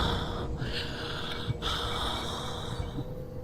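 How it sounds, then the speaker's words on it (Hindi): Heavy, rasping breaths from a horror cartoon creature, drawn out and continuous in a noisy, hissing track, with a couple of sharper snorting inhales, no talking. "तभी उसे भयानक सांसों की आवाज आने लगी।"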